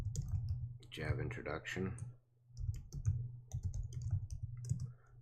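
Computer keyboard typing while writing Java code, a quick run of light clicking keystrokes heard close under someone speaking, with a steady low hum underneath.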